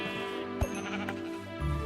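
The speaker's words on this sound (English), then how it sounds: "Yeah, sheep." Sheep bleating in Minecraft, a single clear bleat up close with a brief click partway through, then quiet game ambience.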